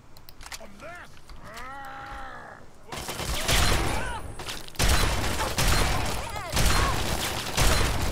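Shotgun fire in the video game Fallout 3 comes as a burst of several loud, sharp blasts in fairly quick succession after a quieter stretch. Voices are also heard.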